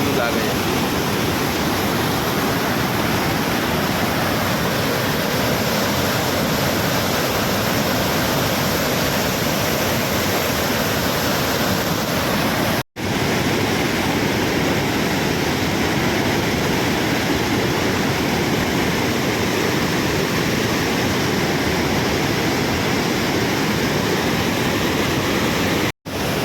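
Splashing water pours over the waterfall at Kadi Dam in a loud, continuous rushing roar heard up close. The sound drops out briefly twice, and possible faint voices sit under the water.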